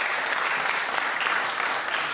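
Steady, dense applause from an awards-show audience cheering the winners at The Drum Awards for Search 2022, sustained throughout without pause.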